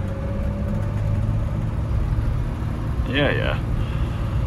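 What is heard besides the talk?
BMW E30 325is engine running on Megasquirt tuning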